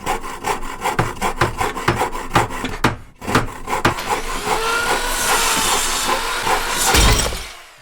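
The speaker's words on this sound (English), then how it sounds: "Let's resaw a beam." Bandsaw with a 1.5 horsepower motor resawing a wooden beam: loud, close rasping cut with a rhythmic series of scraping strokes early on, then a sustained grinding whine as the blade runs through the wood.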